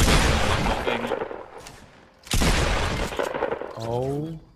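Heavy assault rifle (AK-47) fire in Fortnite comes in two loud, rapid bursts with a short gap between them, followed by a voice exclaiming near the end.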